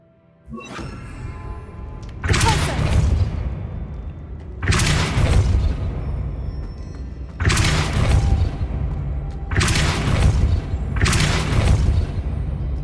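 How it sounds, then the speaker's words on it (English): Depulso spell cast in the Hogwarts Legacy video game, heard as five heavy booming blasts spaced a couple of seconds apart over a steady low rumble, with no talk. "Depulso should set this spinning."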